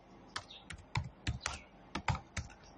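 Keys clatter on a computer keyboard in short bursts of taps with brief pauses between, close and fairly quiet, with no voices.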